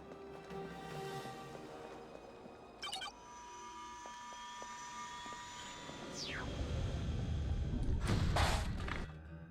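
An aircraft takes off in Destroy All Humans 2, beginning as a faint hum with small clicks and building into a deeper, louder engine rumble over the last few seconds.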